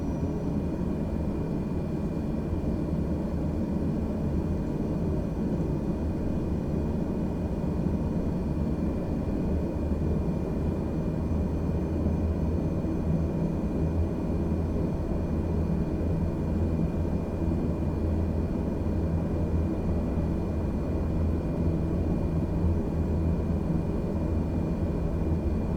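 Aircraft engine idling and rumbling steadily while taxiing toward a runway hold-short point in Microsoft Flight Simulator, a continuous low drone with no speech.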